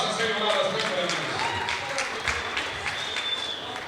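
Audience clapping at an outdoor tug-of-war competition in Saint-Laurent, a steady dense wash of many hands held at an even level throughout, with crowd voices mixed underneath.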